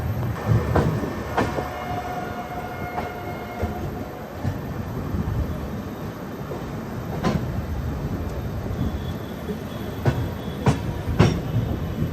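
The Kashi Vishwanath Express runs steadily on the rails from Banaras towards New Delhi with a continuous low rumble, periodic clicks and clanks, and a brief faint squeal of the wheels.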